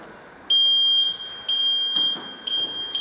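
A household smoke alarm sounds repeated loud, shrill electronic beeps in a steady pulsing rhythm, each lasting about half a second, over a low background hum in a room.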